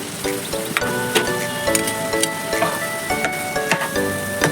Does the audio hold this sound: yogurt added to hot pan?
yes